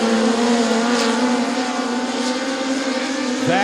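Midget race cars, including a Toyota-powered Eagle chassis, roar around the Bubba Raceway Park dirt oval in a POWRi National Midget League race, their engines screaming loudly and continuously with a pitch shift near the end.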